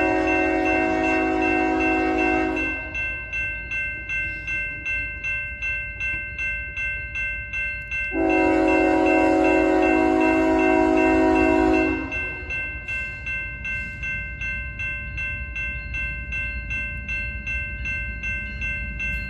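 A BNSF eastbound mixed freight train led by locomotive 7477 rumbles past in Springfield, Missouri, with rhythmic clattering of rail cars, while its loud horn blares twice in long sustained blasts.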